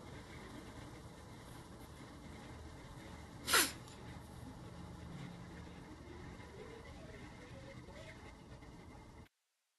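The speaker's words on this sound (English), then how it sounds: "You're the one who sneezed." A single sharp sneeze bursts out close by, brief and loud, over a steady low background murmur.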